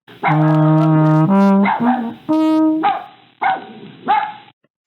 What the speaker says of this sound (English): I've got a barking dog sound